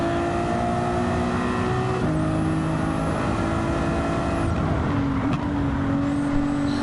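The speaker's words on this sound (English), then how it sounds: "you guys can definitely hear that turbocharger out" A turbocharged car in Gran Turismo 7 holds a steady engine drone with a high turbo whine on top, shifting pitch slightly between gears as it drives smoothly through corners, loud and continuous.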